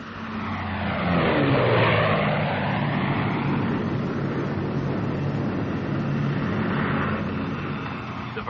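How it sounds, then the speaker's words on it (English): A North American P-51 Mustang diving produces a loud, continuous engine and propeller roar that swells, shifts in pitch as it passes, and stays strong until the end, with no voices. "Plane gains speed extremely fast in a dive"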